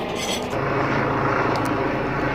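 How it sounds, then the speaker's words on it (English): A helicopter passes overhead near a fruit orchard, a steady, loud broadband rotor and engine roar that fills the whole clip without letting up. "I'm sure the moment I stop making this video, this helicopter will also disappear."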